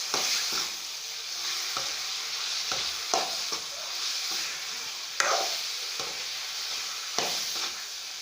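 Potato and brinjal curry cooking in a pan, a steady soft sizzle with repeated scraping stirs as the mixture is turned over, close and moderate in level, with no voices.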